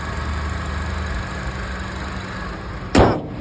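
Steady idle hum of a 2018 Honda Civic FC 1.8 E engine, close and constant, ending with a short sharp burst near the end.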